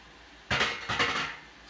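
Metal tongs clink against a canning jar lid while home-canning garden spaghetti sauce: two quick close metallic clatters in an otherwise quiet kitchen.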